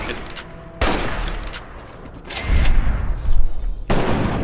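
Gunfire in the video game Fallout 3: bursts of rapid shots and heavier booming blasts, loud and close, with sudden onsets and a continuous rattle of fire building toward the end.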